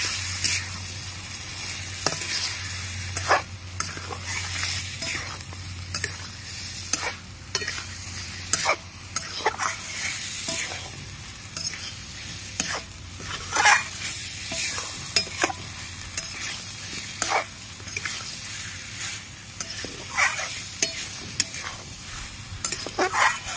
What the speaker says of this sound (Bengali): লঙ্কার গুঁড়ি দিয়ে দিচ্ছি। সামান্য একটু মিষ্টি দিয়ে দিচ্ছি। আর ভালো করে কষিয়ে নেব।